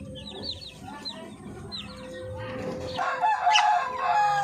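Native darag chickens and young chicks cluck and peep nearby on a backyard farm, with overlapping high chick chirps and hen clucks building louder toward the end.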